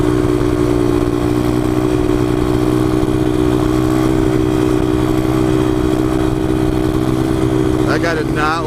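A motorcycle engine roars loud and steady through a wheelie at a 2019 cruise night, a strong droning hum under heavy wind buffeting, with a brief burst of rising pitch near the end.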